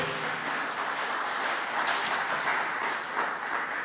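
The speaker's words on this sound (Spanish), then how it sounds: "Dele ese aplauso al Señor, por favor." Church congregation clapping in praise during a Spanish-language sermon, a moderate, fairly distant patter of many hands that swells slightly and continues evenly for a few seconds.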